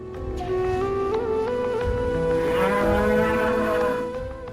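A bull lowing in a single long, loud, drawn-out moo lasting most of the moment, alone with no talk.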